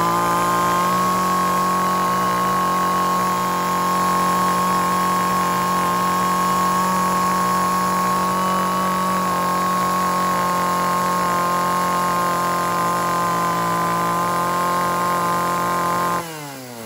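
A 36cc chainsaw with a Latin guide bar runs steadily at a loud, constant rev for about sixteen seconds, then the engine note drops away at the very end.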